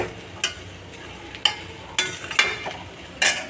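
Sharp scraping strokes of a spoon in a pan repeat every second or so over a soft, steady sizzle of frying food.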